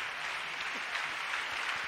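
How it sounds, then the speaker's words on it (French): An audience clapping for Jesus at a French-language worship gathering: steady, dense applause from a crowd, sustained at an even level throughout with no pauses. "Clap for Jesus."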